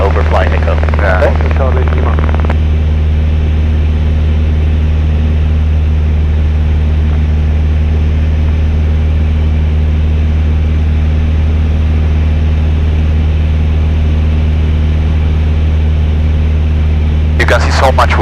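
Steady drone of a light airplane cruising over the Alps near Zell am See, a loud continuous engine and propeller hum with strong low harmonics filling the cabin, with brief bursts of voices at the start and end.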